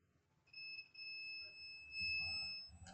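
A steady, high multimeter continuity beep starts after a brief pause and holds continuously, showing a 5-volt output shorted to ground on a karaoke amplifier board, with faint handling noise and low rumble underneath.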